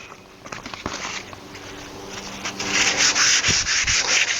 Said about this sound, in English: What I'm doing here is using oil and 400 grit sandpaper.